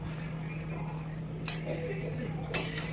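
Potatoes cut for French fries are stirred in cold oil in a pan. Two distinct metallic clinks of a utensil against the pan stand out over a low steady hum, with faint talking in the background.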